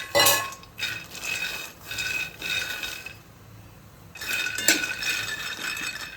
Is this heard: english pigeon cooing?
no